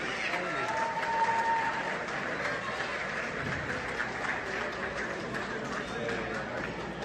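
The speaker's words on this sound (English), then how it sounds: "big round of applause for the wonderful volunteers" Steady applause from a crowd at a political reception in Mississauga, fairly faint and continuous, with a brief whistle early on and voices murmuring under the clapping.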